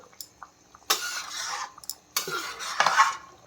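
Jackfruit and egg curry with added meat masala being stirred in a pan: a few bursts of scraping and clattering from a spoon working against the metal, close and moderately loud, with short quiet gaps between strokes.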